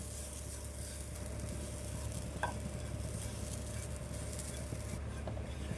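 Grated fresh coconut dry-frying in a kadai, a faint, even rustling sizzle with occasional light stirring and one small clink, close and without speech.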